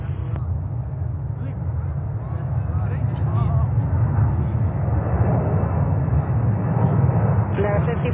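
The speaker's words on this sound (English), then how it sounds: "let's cover this Delta 767 real quick. Taking off here." A Delta Boeing 767 takes off at JFK airport, its steady, loud low engine roar continuous throughout, with a faint radio voice heard over it.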